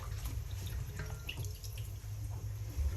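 Water running into a cooking pot of native chicken tinola with papaya, a steady continuous pour with a low rumbling gush, close and fairly loud throughout.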